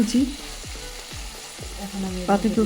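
Shredded cabbage stir-fried in hot oil in a pan for spring roll filling, a steady sizzle broken by repeated scraping stirs, close and fairly loud, with no talking.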